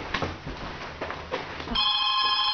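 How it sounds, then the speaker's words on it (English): A hotel room telephone at the Sheraton Vistana Villages on International Drive rings with a steady electronic trill, entering after brief muffled room noise and sounding loud and near. "Hey, the phone's ringing."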